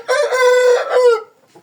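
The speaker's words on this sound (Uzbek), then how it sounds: "Mana xo'rozlar." A rooster gives one loud, close crow, a strong harmonic call lasting about a second that drops away into quiet.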